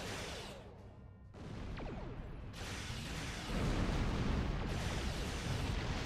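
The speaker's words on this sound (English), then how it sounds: "That plasma tornado just went straight through me and I just disintegrated." A plasma tornado sweeping through and disintegrating a player in a Star Trek video game: sustained loud roaring, whooshing blasts with booming, explosive surges that intensify toward the end.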